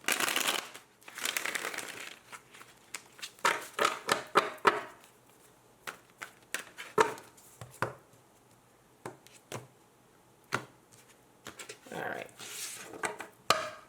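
Soft riffling and slapping of tarot cards being shuffled, in irregular bursts with short pauses, close and fairly quiet, no talking.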